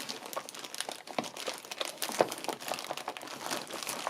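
A little plastic carrier bag rustled and crinkled up close, a steady run of crisp crackles with sharper crunches throughout, heard alone without speech.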